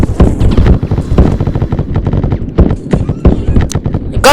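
Rapid gunfire from a Roblox Warfare battle, dense bursts of shots cracking in quick succession at close range, loud and continuous with no speech over it.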